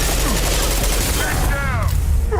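Rapid gunfire from the Mass Effect video game, loud and close, with a sustained burst of shots and bits of game chatter mixed in over a busy combat bed.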